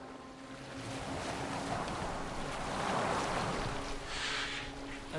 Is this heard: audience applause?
no